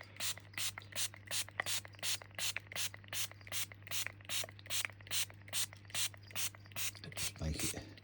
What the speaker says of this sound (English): we give it a little spray down